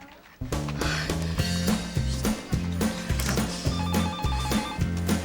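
A telephone rings indoors in a Korean TV drama scene, bursts of trilling bell tones repeating in a regular rhythm over a brief pause at the start, loud and close.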